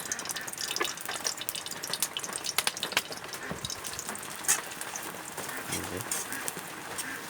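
Egg frying in a little oil in a home kitchen, a soft steady sizzle with scattered crackles and stirring taps, fairly quiet under occasional talk.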